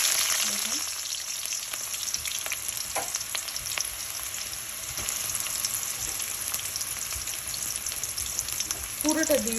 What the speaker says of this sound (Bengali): এখন আমরা পেঁয়াজ কুচিটা দিয়ে দেব ফার্স্টে।